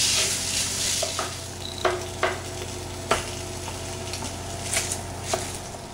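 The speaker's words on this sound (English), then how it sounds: "We're just going to put this into our saute pan and let those start to soften, stirring to incorporate the onions into the cream cheese." Onions softening with cream cheese in a sauté pan, a soft continuous sizzle beneath scattered scraping and tapping strokes of a utensil being stirred, close by, no voices.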